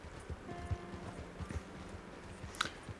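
Horse hooves clip-clopping in Red Dead Redemption 2, an irregular run of hoof beats over quiet ambience with a brief brighter clatter near the end.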